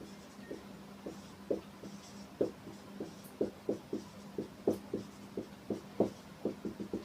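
Chalk tapping and scratching on a board as multiples of numbers are written out, a steady run of short, faint strokes and taps in a quiet classroom.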